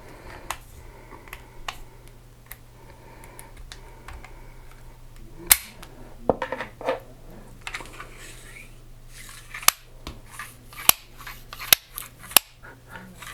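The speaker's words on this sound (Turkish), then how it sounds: "Silah bir sökmeye çalışalım" A SIG P210 Blue Helvetica pistol being taken apart gives sharp metallic clicks and clacks of slide and parts, some single, some in quick clusters, over a quiet room.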